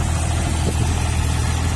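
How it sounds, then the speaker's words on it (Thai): A JCB 8035ZTS mini excavator's three-cylinder diesel runs at a steady, close-up drone with no change in pace. "เครื่องยนต์น่าจะสามสูบครับ สามสูบ ห้าสิบเฮด น่าจะมาจากห้าสิบแรงม้าหรือเปล่าครับ"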